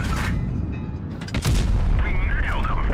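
Tank cannon fire in World of Tanks Blitz, a shot striking a Jagdpanzer: a loud booming impact around the middle, set among steady game noise with a whooshing, warbling effect trailing after.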